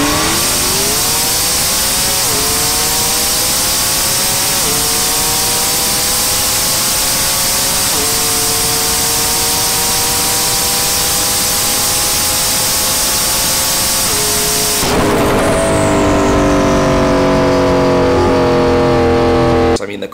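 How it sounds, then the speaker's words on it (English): McLaren 720S supercars run a half-mile drag race, one engine screaming loudly through rising revs with repeated upshifts every couple of seconds, then a sudden shift to a rougher, harsher roar near the end. "I'll play a quick clip of Jimmy racing another McLaren 720S, and it was really, really close."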